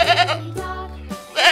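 A goat bleats in two sustained, wavering calls with a short pause between, fairly close and clear, with no talk over it.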